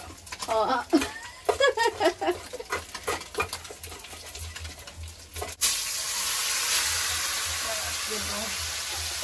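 Pieces of snakehead fish fry in hot oil in a village kitchen, a steady broad sizzle rising and loud after the first half, with a voice talking and utensil clatter over the earlier part.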